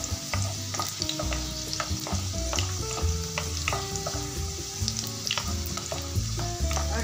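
Ingredients for red sauce pasta frying in a pan, with a steady sizzle broken by clinks and scrapes of a stirring utensil, close and without any voices.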